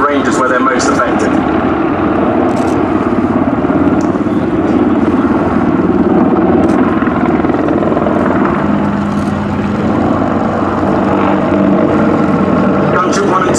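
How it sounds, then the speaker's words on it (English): Two gunship helicopters hover at a VE Day anniversary airshow at Duxford, a steady loud rotor and engine drone throughout, while a commentator speaks over the public address. "Gunship 1 and 2 are now demonstrating their high hover performance."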